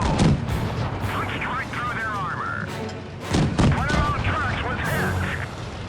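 A Matilda tank video game erupts in heavy cannon and gunfire, with loud repeated booms in quick succession and a voice talking over the battle noise.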